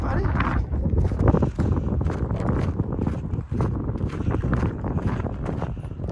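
Strong wind gusting along the shore of a frozen Big Bear lake at about 42°F with a windchill of -1, heavy buffeting rumble across the microphone, loud and constant, with a person talking.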